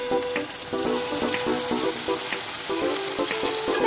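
Onions fry in a pan with a garlicky spice paste for Bengali mutton liver chorchori. A continuous loud, close sizzle runs throughout, with scattered soft stirring scrapes and taps.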